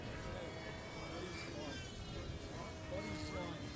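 An electric model airplane flies at the Nats model aviation championships, its steady motor whine with shifting tones heard faintly at a distance, overlaid by outdoor background noise.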